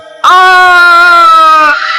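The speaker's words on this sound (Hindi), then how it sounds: "तभी हीरा के चीखने की आवाज आती है" A single loud, sustained human scream lasts about one and a half seconds, harmonic and piercing, then cuts off abruptly as a sound effect in a narrated story.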